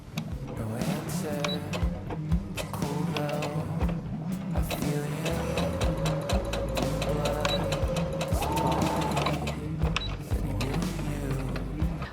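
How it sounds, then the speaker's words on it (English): Sewing machine stitching a small securing stitch across the bottom of a T-shirt V-neck, a steady close mechanical whir and rapid needle clatter running continuously, with speech mixed in. "Then we are simply going to sew a small securing stitch across the bottom of the V-neck."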